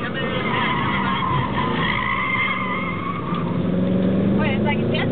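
An AMG car braking hard on the Laguna Seca race track as its ABS engages and the tires squeal and skid in a continuous, loud, close whine, with people talking over it.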